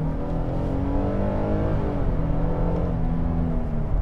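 A 2022 Nissan Frontier mid-size pickup with 310 horsepower, floored at full throttle: a loud, steady engine roar that climbs in pitch through the run, with no talking.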